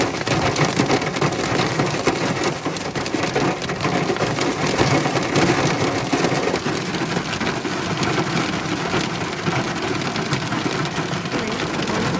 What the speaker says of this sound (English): I haven't seen a rain like this one even in London.